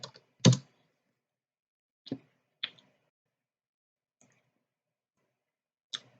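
A few sparse keystrokes on a computer keyboard, isolated taps spread out with long quiet gaps between them, fairly close and crisp.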